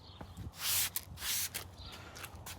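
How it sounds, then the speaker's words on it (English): Two short hissing sprays of car detailer spray from a trigger bottle, close by, with light handling noises between them. "so we'll just spray it on"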